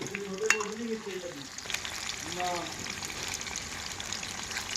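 Cut paneer pieces frying in a pan, a soft sizzle running under brief talk, with a few clinks and faint watery bubbling, close and fairly quiet.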